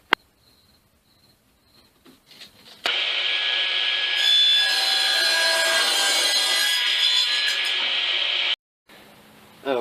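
A handsaw cuts through a wooden 2x4 in a long continuous run of fast, rasping strokes, loud and close, starting after a few quiet taps and stopping abruptly near the end.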